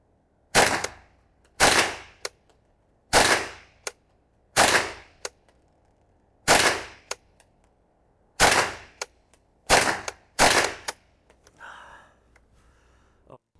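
An AR-7 survival rifle fires about ten sharp, loud shots at irregular intervals of roughly one to two seconds, each followed by a brief echoing decay, then a quieter rustle at the end.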